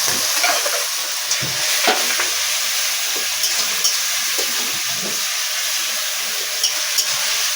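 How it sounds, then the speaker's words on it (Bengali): Tomatoes frying with salt in a pan, a steady bright sizzle close by with occasional scrapes and stirring clicks, no talking. "নুনটা দিলে তাড়াতাড়ি টমেটোটা গলেও যাবে ভাতটাও তাড়াতাড়ি হয়ে যাবে নুন দিয়েছি টমেটোটা গলেও হবে টমেটোটা ভাজা ভাজা হয়ে যাবে"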